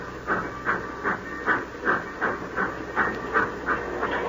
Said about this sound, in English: The old boiler up front's got the steam up.